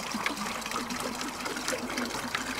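Water being pumped through a portable overland shower in a privacy tent, a soft trickling and splashing stream that runs steadily with small irregular spurts, fairly quiet and close.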